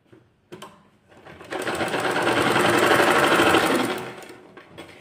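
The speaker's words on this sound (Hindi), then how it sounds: "अभी हम इसके सामने ऐसे एक सिलाई लगा देंगे।" A sewing machine runs in a steady whirring burst while stitching a kurti sleeve, starting with a few short taps before a loud continuous run of about three seconds, then slowing to a stop.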